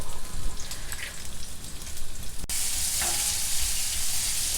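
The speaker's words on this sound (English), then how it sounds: "Fry the onions." Sliced onions frying in about two tablespoons of hot oil in a pan, a dense, crackling sizzle that swells noticeably louder partway through and holds steady, close up with no talking.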